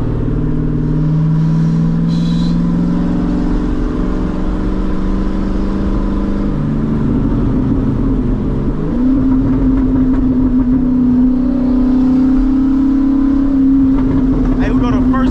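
A straight-piped Corvette C6 Super Sport downshifts while driving through the city, its loud engine droning continuously and climbing in pitch as revs rise, with voices talking over it throughout.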